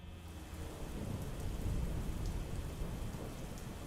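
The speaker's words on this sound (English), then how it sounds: "Ooh, rain sounds." Steady heavy rain hisses alone, with deep thunder rumbling underneath throughout, without any voices.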